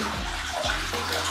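A bath fills with running water from the tap, a loud steady gushing roar close by with a couple of brief low gurgling sweeps, and no voices.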